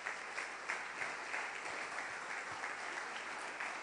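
Congregation applause during a Spanish-language church service, steady and dense across the whole stretch with no voices over it, heard from a moderate distance.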